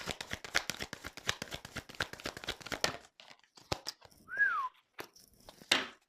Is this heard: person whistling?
yes